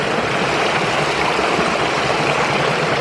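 Steady water flowing and trickling in a creek at a gold-prospecting spot, a continuous close rushing wash with no breaks and no voices.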